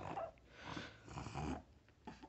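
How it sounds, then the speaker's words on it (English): A pug dog growls and grunts in low, rough snorting bursts, close by and fairly loud, pausing briefly before a final grunt. "Are you a good little dog?"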